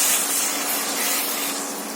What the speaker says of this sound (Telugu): ఇప్పుడు మనం ఏం చేస్తాం వాటర్ యాడ్ చేస్తాం